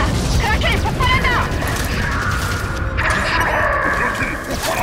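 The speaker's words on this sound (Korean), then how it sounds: "크라켄이 폭발한다" Kraken blowing up in Halo 5: Guardians, a dense, continuous roar of blasts and crashing debris, loud and close, with voices partly mixed in.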